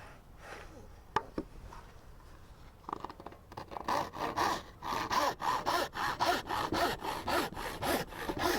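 A hand saw cuts a tenon in wood at a workbench, starting with a few tentative strokes before settling into steady, rhythmic back-and-forth rasping strokes, close and fairly loud, with no talk over it.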